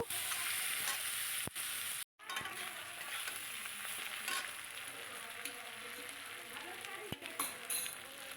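A fish head stir-fries with ginger paste and spices in a pan for dal, giving a continuous close sizzle with occasional utensil clicks and one brief dropout, no voice.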